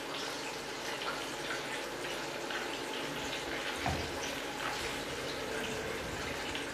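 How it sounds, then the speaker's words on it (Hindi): Floured chicken pieces being dipped into a bowl of plain water in a home kitchen, making a soft, continuous sloshing and trickling of water at low volume with faint handling sounds. "अब मैं इसे पानी में, सादे पानी में डिप करूँगी,"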